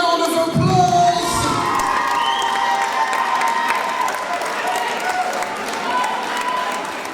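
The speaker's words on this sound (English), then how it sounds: "Please give them a round of applause." A crowd at a boxing match cheers and applauds the two fighters, a loud continuous roar of voices and clapping with an announcer's voice over it.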